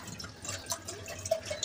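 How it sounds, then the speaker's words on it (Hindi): Water pours into a cooking pot to boil soaked chickpeas in a home kitchen, a soft steady splashing and trickling with small drips, fairly quiet and with no talk. "पानी डाल देते हैं"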